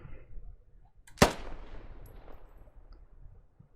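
A single sharp DMR rifle shot rings out from a Halo mod for the Squad shooter game, one loud crack with a long fading tail and no other shots around it.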